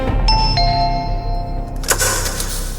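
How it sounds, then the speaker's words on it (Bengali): A doorbell rings as a sound effect in a Bengali horror audio drama, its bright ding tones sounding clearly over a low background bed, followed by a brief burst of broadband noise. "calling bell টিপল"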